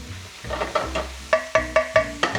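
Finely chopped garlic cooks in a pan, a soft steady sizzle broken by a run of distinct scraping stirs, regular and close, with no talking.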